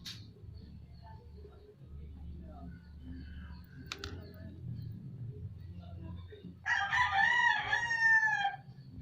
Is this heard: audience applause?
no